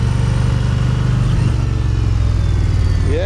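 An Indian Pursuit Limited motorcycle rated at 122 horsepower pulls hard on a demo ride at Daytona Bike Week, its engine a steady close drone under wind noise, with a brief rising whine near the end.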